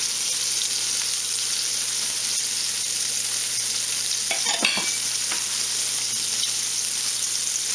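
Fish in Shore Lunch Cajun-style breading fries in hot oil, giving a steady, close, loud hiss with a brief clatter midway and no talking.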